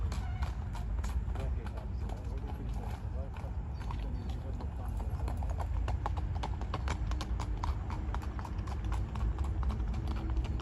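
A mare's hooves clip-clop in a fast, steady trotting rhythm over continuous outdoor background noise.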